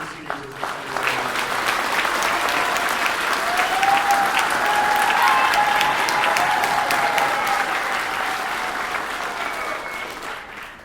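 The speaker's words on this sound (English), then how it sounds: "One more big round of applause for the seniors as they come" Sustained audience applause for the graduating seniors at a school spring choir concert, a full hall clapping steadily and loudly for about ten seconds before tapering off.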